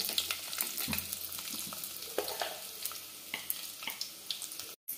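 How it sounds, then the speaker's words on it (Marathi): Bombil fish fries in oil with a close, continuous sizzle and crackle, punctuated by scraping stirs and spatula clicks, ending with a brief cut to silence. "लाल जरा होईपर्यंत चांगले तळून घ्यायचे बोंबील"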